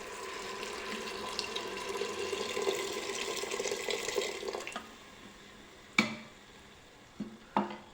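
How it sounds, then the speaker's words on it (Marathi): Two glasses of water poured into a pot of masale bhat, a steady splashing gush for about five seconds, then stopping, followed by a few sharp clinks of a utensil against the pot. "2 ग्लास पाणी घालून घेऊयात."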